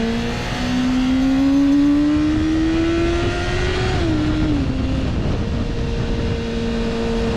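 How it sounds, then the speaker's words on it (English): A motorcycle ridden at highway speed, heard from a helmet: a steady engine drone climbs in pitch, dips briefly at a gear change, then settles, all under a constant rush of wind noise. "Gosh, I love riding bikes."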